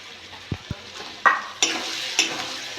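A spoon stirs a sizzling pan of frying spices, turmeric, chili powder and tomato for a cabbage and potato chorchori cooked in fish oil: a steady close sizzle with a few soft taps and three or four louder scraping stirs, with no talk.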